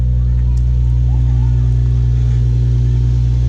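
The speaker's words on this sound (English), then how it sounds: "There's the exhaust note for you guys." A truck's engine idles with a deep, steady exhaust rumble, loud and close, holding an unchanging drone with faint background sounds above it.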